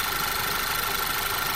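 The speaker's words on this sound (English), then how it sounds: "Slowly let the engine get up to operating temperature as we're sending in there." A direct-injection car engine idles steadily during a chemical carbon clean while warming to operating temperature, a constant dense hum and hiss with no variation over the short span.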